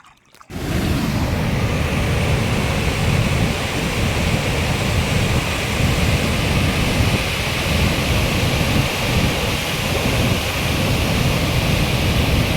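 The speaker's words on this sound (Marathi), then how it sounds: "पण बघा किती जोरात पाणी चालू आहे आणि मस्त नजारा आहे" Powerful river current swollen by water released from the Bhama Askhed dam, a loud, continuous close roar of rushing water pouring into a large pool below, steady and unbroken after a brief quiet start.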